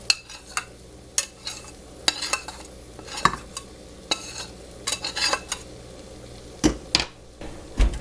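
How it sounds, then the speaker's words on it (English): A utensil scrapes and clanks in a frying pan as scrambled eggs and sausage are mixed together for breakfast burritos, irregular close knocks over a faint sizzle. "Just mix it all together."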